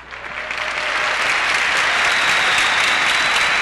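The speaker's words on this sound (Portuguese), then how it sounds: "vamos aplaudi-los" An audience at a Seicho-No-Ie gathering with guests from over eleven Latin American countries bursts into applause, building in the first moment and then holding as a steady, loud wash of clapping with no talk.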